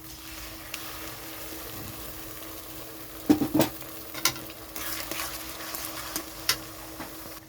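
Quiet frying sizzle of onions with ginger, cumin, dried chilli and garlic paste in oil, broken by several metallic scrapes and clinks of stirring, the knocks clustered loosely through the middle.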